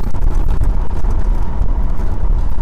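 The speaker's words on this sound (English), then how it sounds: "Really enjoying driving this classic Chevelle" A 1970 Chevrolet Chevelle Malibu convertible with fuel injection and turbo-style mufflers cruising with the top down, a loud, steady low engine rumble with rushing wind noise throughout.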